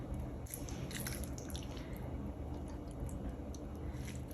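A small splash of hand-washing water, rinsed off a spice-smeared plate and hands, trickles into a pan while cooking prawns. It sounds faint and drippy, a few quiet wet squishes and drips close by with no talk.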